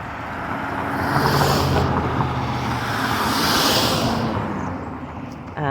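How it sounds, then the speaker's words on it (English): A car drives past outdoors, a broad rising and falling whoosh of tyres and engine with wind buffeting the microphone, swelling through the middle and fading out near the end. "hold on, let's let this car go by"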